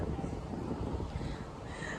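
Strong wind at the Jackerath open-pit mine in Germany, ahead of rain, buffets the microphone in a constant low roar, steady and loud throughout, with no clear speech.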